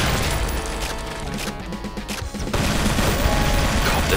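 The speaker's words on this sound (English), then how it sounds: "No, I want to throw a grenade actually." A grenade detonates amid chaotic gunfire in a Doom II mod, a loud booming blast with crashing debris over dense, continuous combat noise.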